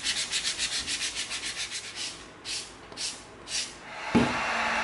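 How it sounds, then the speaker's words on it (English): Rapid rhythmic rubbing strokes of a 220-grit sanding stick on EVA foam, a dozen quick back-and-forth passes slowing into a few longer scrapes, close up, followed by a brief clunk and hiss. "Let's come in with our 220 sanding stick. Let's take some of these bandsaw marks off of here."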